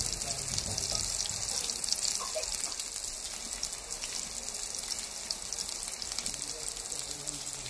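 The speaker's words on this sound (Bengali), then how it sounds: "পটল ভাজা হয়ে গেছে, এবার তুলে নেব।" Sliced pointed gourd (potol) frying in a pan: a continuous hissing sizzle with scattered pops, steady and moderately close, at a fairly low level.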